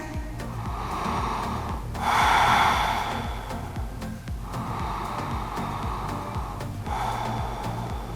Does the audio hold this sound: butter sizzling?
no